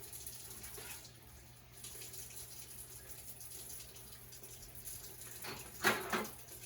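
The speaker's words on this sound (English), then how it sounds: "I'm going to rinse my instruments, shake them, place them on the chuck to dry." Tap water runs steadily from a faucet while dental instruments are rinsed beneath it, a soft continuous splash with a louder spattering burst near the end.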